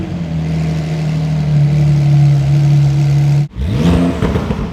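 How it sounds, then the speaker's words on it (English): A Porsche 911 fitted with an aftermarket SF10 muffler gives a loud, steady, deep engine drone. It cuts out briefly, then revs up again with a rising pitch. "When the car fired up for the first time, it immediately had more volume and a deeper rumble thanks to the muffler"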